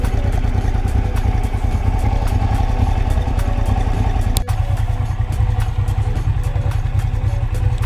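A Honda Africa Twin RD03 motorcycle idles steadily at low revs once warm, a loud, close, continuous mechanical chug with faint clatter and no voices.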